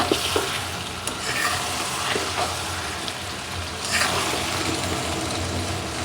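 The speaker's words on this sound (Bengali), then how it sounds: "আমি এখন দিয়ে দিলাম ফালি করা কাঁচা মরিচ কয়েকটা।" Sliced green chilies frying and being stirred into a simmering curry in a pan, a loud close bubbling sizzle with occasional scraping strokes, steady throughout and without speech.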